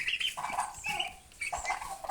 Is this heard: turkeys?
yes